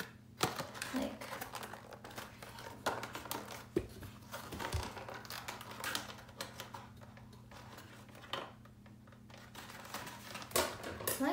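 A cardboard toy box for an Imaginext Jurassic World toy is pulled and ripped at, giving scattered scratchy tearing and crinkling bursts with small taps, fairly quiet and close, irregular over several seconds.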